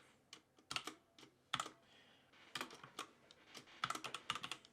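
Someone types code for a Python array exercise on a computer keyboard. Quiet, close keystrokes come in irregular clusters and short runs with brief pauses between them, and no one speaks.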